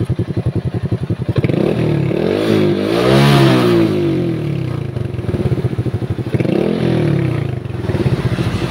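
A motorcycle engine idles with a rapid chugging pulse, then revs up twice in rising, droning surges before dropping back, loud and close with no talking.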